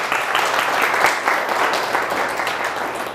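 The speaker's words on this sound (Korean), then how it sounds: "저는 박수가 한 번쯤 터질 줄 알아요." Sustained audience applause from a crowd at a talk, dense steady clapping filling the whole stretch at an even level without pause.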